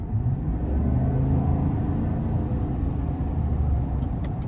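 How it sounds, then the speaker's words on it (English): A 2021 GMC Sierra 1500 Denali pickup with the 6.2 V8 pulls under light throttle, a steady low engine rumble with road noise inside the cab, no talking. "Gonna give it a little throttle here."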